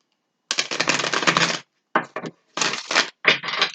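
Close crisp riffling of tarot cards being shuffled in several short bursts separated by brief pauses, with no voices.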